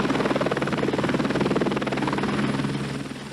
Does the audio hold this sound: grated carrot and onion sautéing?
no